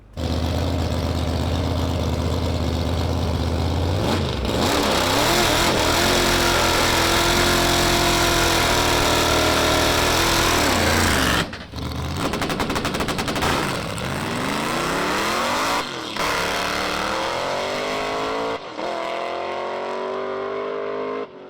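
Race car engine roaring loud and close as it accelerates hard, with clutchless gear shifts breaking the rising engine note into stepped pulls; exhaust crackle and bangs between shifts, no talking.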